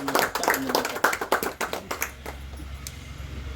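Staff at the Siddhivinayak Hyundai shop clap together for its first anniversary celebration, a quick burst of close, uneven hand claps that thins out and fades into low background noise.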